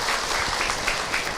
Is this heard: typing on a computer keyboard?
no